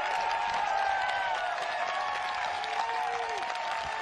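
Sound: crowd roaring and applauding at a disc golf tournament

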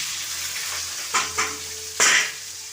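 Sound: onion, green chilli and curry leaves frying with mustard seeds

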